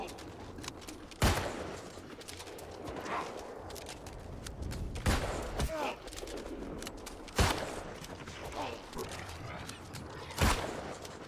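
Gunfire in New World, a handful of sharp, loud single shots spaced several seconds apart over a steady bed of game ambience and faint footsteps.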